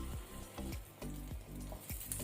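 Sweet appa (paddu) batter cooks in a pan over a medium-high flame, giving a steady close sizzle with soft periodic crackling bursts and no voices.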